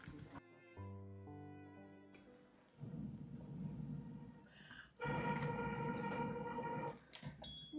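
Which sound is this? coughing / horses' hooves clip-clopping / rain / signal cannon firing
rain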